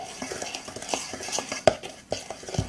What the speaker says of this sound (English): Mix it up, brownies.